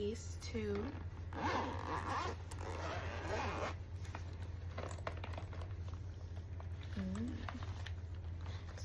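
A zipper on a Momcozy M6 carrying case is pulled in a few quick, raspy close-up strokes, scattered across the clip, with someone talking quietly over a low background hum.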